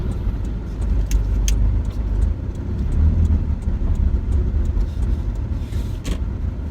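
A 2008 Proton Gen 2 Persona with automatic transmission turning tightly at low speed, giving a steady, close engine and road rumble with faint tyre and cabin noise and no talk.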